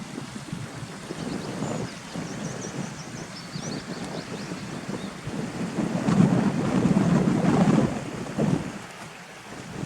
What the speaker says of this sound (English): so you can get close to the water again, hear the water trickling